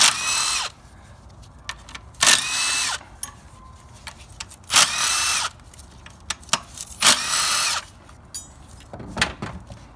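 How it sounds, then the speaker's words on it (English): Power ratchet or drill-driven 10mm socket spinning off alternator bracket bolts on a Ford 5.4 or 4.6 V8, four loud whirring bursts of a few seconds each with quieter clicks and clunks between. "let's go ahead and take these 4 top bolts off with a 10mm socket"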